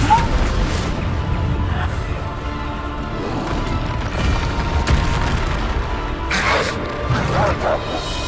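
Bombarda spell blasts in the video game Hogwarts Legacy, a series of loud booming explosions and crashes over dense game noise and music, with voices shouting spell names in between.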